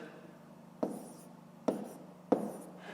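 Numbers are written out by hand during a fifth-grade math exercise, heard as three distinct scratching strokes spaced evenly apart over a quiet, faintly humming background.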